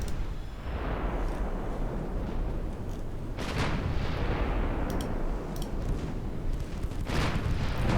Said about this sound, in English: Transports are firing back.